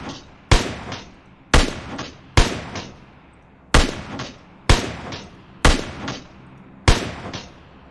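Gunfire in the video game PUBG rings out as seven sharp, loud single shots with short decaying tails, spaced roughly a second apart, with no talk.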